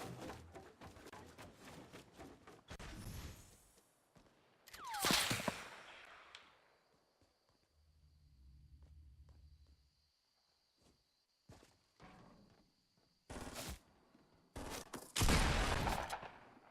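Weapon gunfire in Fortnite, sharp scattered shots and bursts separated by quieter stretches of footsteps and game sounds, with louder volleys near the middle and the end and no talking.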